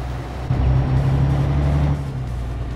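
A truck engine drones steadily while hauling an asphalt milling machine in Euro Truck Simulator 2, a loud low rumble that swells briefly before settling back to an even hum.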